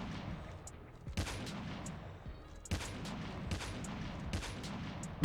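Call of Duty sniper rifle shots with a scope, a few heavy booming reports spaced a second or so apart over low rumbling background, each followed by a brief decaying tail.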